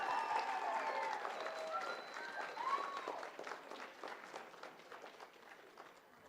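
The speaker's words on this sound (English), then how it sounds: "One more thunderous round of applause for our beginning band" Audience applause for a beginning band at an end-of-summer school band concert, a full round of clapping with a few cheers that starts strong and gradually thins out over several seconds.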